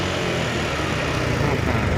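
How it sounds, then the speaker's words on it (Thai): Honda Forza 350 scooter from 2021 with about 4,000 km on it, its engine idling steadily with no stumbles, a close, continuous low hum. "เครื่องยนต์นิ่งนะครับไม่มีสะดุดเลย"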